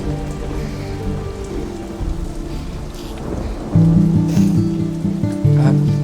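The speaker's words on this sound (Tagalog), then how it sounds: "Malakas ho bagyo sa labas." Heavy rain from a strong typhoon pounds outside, a steady loud roar of rain on surfaces with low rumbling swells, growing stronger midway and continuing without speech.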